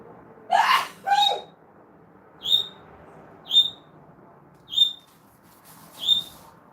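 A run of six short sneezes: two close together, then four sharper, squeaky ones spaced about a second apart, each standing alone against a quiet room.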